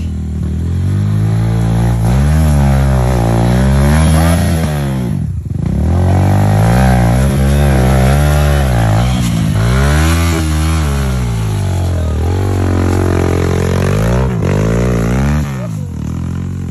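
Yamaha XTZ 125 motorcycle ridden on a dirt trail, its engine loud and close, revving up and down in repeated surges with a brief dip near the middle, and a voice occasionally calling out over it.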